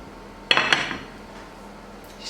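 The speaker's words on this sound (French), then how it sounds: "Ce que je vais faire, c'est que je vais prendre une assiette pour pouvoir la retourner." A plate is picked up and handled to flip a baked vegan dish, giving two quick ceramic clatters close by, then quiet.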